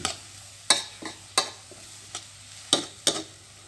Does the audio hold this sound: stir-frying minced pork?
yes